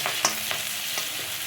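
Fenugreek leaves stir-fried in a pan, a steady close sizzle broken by several quick scraping stirs of the spatula, with no voices.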